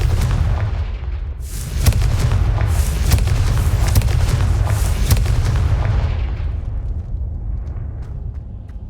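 Confringo fire spell from Hogwarts Legacy bursting in loud, rumbling booms with heavy low-end blasts and crackling debris, several impacts layered in sustained battle noise that tapers off toward the end.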